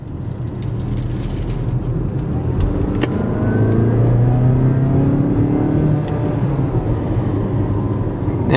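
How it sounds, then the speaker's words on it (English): A 2017 Mazda CX-5 Grand Touring engine idles steadily with a low rumble, heard from inside the cabin, with a slight rise in revs midway and no talking. "Engine sounds good."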